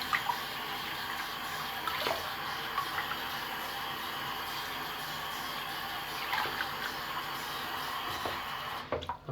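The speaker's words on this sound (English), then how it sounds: "I apologize for my sink filling up. It doesn't drain right anymore." Water pours steadily into a slow-draining kitchen sink as it fills while a vinyl record is rinsed, a constant near splashing rush with occasional louder sloshes, then a brief dip near the end.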